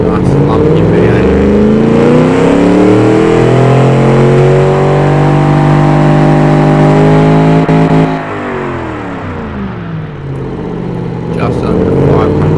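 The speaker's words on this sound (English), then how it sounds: "Let's have a listen to it. Nice lumpy V8." A lumpy V8 fitted with a muffler in the Automation car-design game, idling and revving steadily loud for about eight seconds, then dropping briefly before the engine note climbs again.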